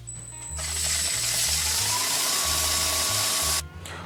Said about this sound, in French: Alors, un petit ponçage.